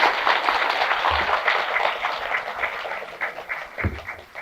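Audience clapping fills a hall during a Korean Zen meditation dharma talk, a steady mid-loud wash of many hands that rises and swells throughout, with no voices over it.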